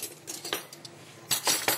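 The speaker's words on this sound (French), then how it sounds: "Aujourd'hui, depuis 7h du matin, je fais que de la vaisselle." Cutlery and dishes clink and clatter while being washed, with bright metallic chinks in irregular bursts, a loud cluster near the end, over a quiet room.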